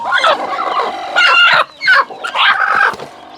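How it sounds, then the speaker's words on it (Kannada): Day-old native country chicken chicks on a small backyard poultry farm chirp and cheep continuously, close and fairly loud, in overlapping bursts with short pauses, and no voices are heard. "ಒಂದಿನದ ಮರಿ ನಾನು ಇದೇ ನೋಡ್ತಾ ಇರೋದು, ನಾಟಿ ಕೋಳಿ ಮರಿ"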